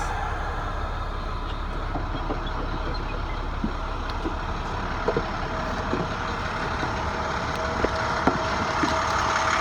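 A CDL passenger bus engine runs at a steady low idle, a quiet continuous rumble with a few faint clicks and knocks around it.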